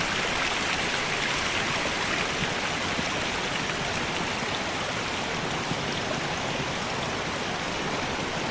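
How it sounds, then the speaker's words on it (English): A mountain stream runs through a highland valley in the dead of winter on Mt Ishizuchi. The steady, dense rush of water stays at an even level throughout, with no voices. "Even in the dead of winter, water still flows from highland valleys."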